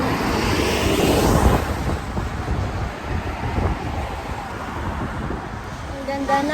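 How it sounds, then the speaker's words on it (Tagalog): Strong wind at a Dubai beach roars and buffets a microphone continuously, with a surging, rumbling texture throughout and no clear voices. "At mahangin talaga guys."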